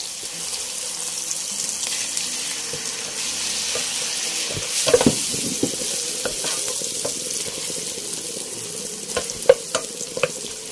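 Potatoes and onion frying in a skillet, a steady sizzle throughout with occasional scraping and stirring clicks of a utensil against the pan.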